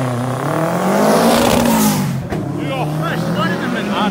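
A turbocharged Subaru Impreza charges up a hillclimb course, its engine loud and close as it revs and shifts with a sharp blip midway, while commentators talk over it.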